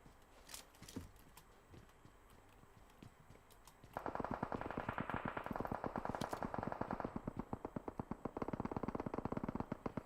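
Rapid automatic gunfire in PUBG Mobile, a dense run of loud, echoing shots that starts after a few scattered single cracks and keeps going for several seconds.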